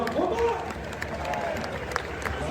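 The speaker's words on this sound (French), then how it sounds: "Sortie sous vos applaudissements numéro 21" Stadium crowd at a Brest home football match applauding a substituted Stade Brestois player, a broad roar of clapping and crowd noise with a voice talking over it.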